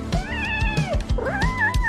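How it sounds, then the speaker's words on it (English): A cartoon cat cries in two drawn-out, wavering meows, close and fairly loud, with faint thumps underneath, from a toy craft setting. "Uh-oh, you've made Kitty cry."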